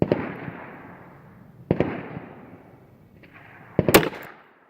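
Handgun firing Quiets ammunition, with sharp reports at intervals, each followed by a fading reverberant tail; the last report comes as a louder cluster.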